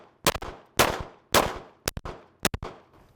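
Five sharp pistol shots from a Glock fitted with a red dot sight, loud and close, fired in an uneven rhythm with short gaps and brief ringing decay after each shot.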